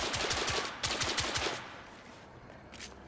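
Rapid gunfire in the video game The Order: 1886, bursts of close, loud shots in quick rhythmic clusters during the first half, fading to quieter sporadic sounds afterward.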